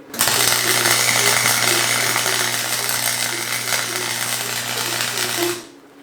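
A welder lays a seam with a loud, continuous crackling buzz over a steady electrical hum, running unbroken for about five seconds before stopping and leaving a faint background tone.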